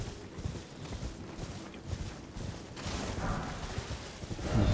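Horse hooves clip-clop steadily on the ground during riding in the video game Elden Ring, a continuous rhythmic beat that swells a little louder toward the end, with no talking over it.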